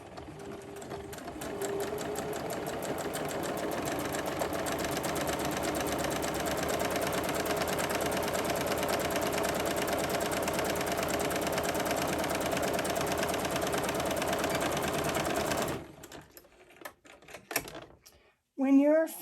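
A sewing machine runs steadily, stitching the second pass of an enclosed French seam at 3/8 inch with backstitching. It whirs loud and continuous for about fifteen seconds, then stops, leaving a few faint clicks.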